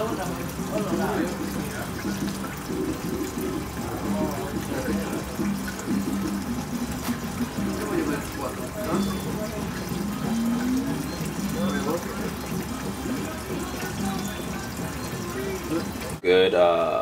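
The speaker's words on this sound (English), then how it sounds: "Right now is draining all the E85." E85 fuel drains out of a Mitsubishi Evo fuel tank with a steady, continuous splashing pour that runs for the whole stretch and ends with a brief louder shift.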